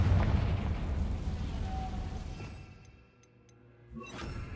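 A Confringo fire spell exploding in the video game Hogwarts Legacy, a loud rumbling blast that fades away, then a fresh burst of noise near the end, with no talk.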